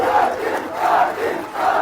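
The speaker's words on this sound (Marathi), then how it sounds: "जोरदार टाळ्या वाजवा" A large crowd at a Maratha rally roars and chants in swelling waves, three surges of massed voices rising and falling over about two seconds, loud and close with no single speaker.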